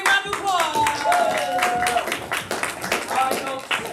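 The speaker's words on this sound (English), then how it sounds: "Let's give them a big round of applause!" Audience clapping and cheering as three players come up on stage at a live improv game event, a dense burst of applause with voices mixed in over it.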